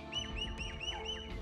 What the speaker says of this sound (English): So the sound of the birds,